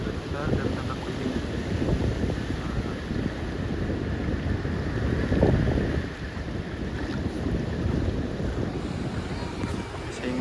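Large, high ocean waves breaking against a cliff at Parang Dowo beach on Java's south coast, a continuous roaring surf wash with wind noise on the microphone.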